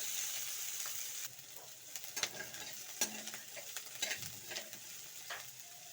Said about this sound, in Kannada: ಸ್ವಲ್ಪ ಎಣ್ಣೆಯಲ್ಲೇ ಫ್ರೈ ಮಾಡ್ಕೊಳ್ಳಿ